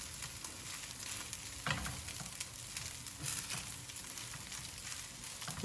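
Rice stir-fried in a pan for Yang Chow fried rice, a continuous dense sizzle and crackle with scraping and tossing, close and steady, no voices.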